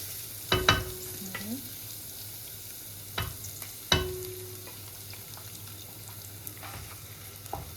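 Garlic frying with tomato sauce in a pan is stirred with a utensil, with a few sharp clanks against the pan over a soft, steady sizzle, close by and without speech.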